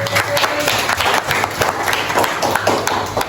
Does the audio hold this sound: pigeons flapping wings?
no